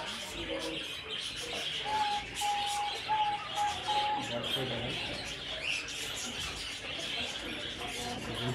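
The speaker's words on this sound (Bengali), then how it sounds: "এখানে ভাই ঘুঘু দেখতে পারতেছি, ব্রাউন কালারের ঘুঘু" A brown dove coos softly among caged pet birds such as cockatiels and lovebirds, giving a short series of low tonal coos over scattered chirps and a busy background of faint voices.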